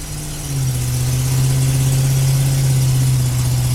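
A super cab pickup truck engine revving up, a loud, close, steady drone that climbs slightly and then holds at a smooth, even pitch.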